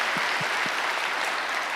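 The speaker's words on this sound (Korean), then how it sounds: "같이 한번 감사의 박수로 한번" Congregation in a church clapping in thanks for visiting pastors at a New Year's prayer service, a steady wash of applause from many hands filling the room with no voices over it.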